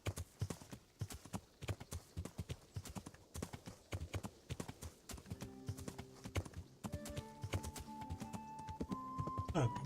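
Horse hooves in Kingdom Come: Deliverance clop in a steady, brisk rhythm that grows louder as the animal draws near, while someone speaks over them and game music tones rise toward the end.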